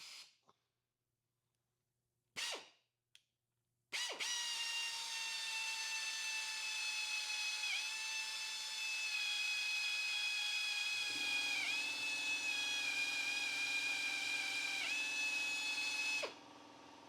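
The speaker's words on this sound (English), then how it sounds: "We got to drill the whole valve body larger, and then we got to ream it out" Drill boring out an aluminum transmission valve body for a Tundra AB60 build, a loud, close, steady high-pitched whine that starts after a few short bursts, shifts lower in pitch partway through, then stops.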